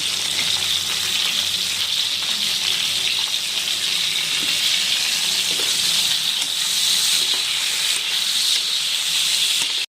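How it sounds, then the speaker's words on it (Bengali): Finger-sized eggplant pieces with turmeric fry in oil used for frying fish, with a loud, steady hiss and sizzle that runs unbroken throughout. "মাছ ভাজার তেলে যেহেতু বেগুনটা ভেজে নিচ্ছি"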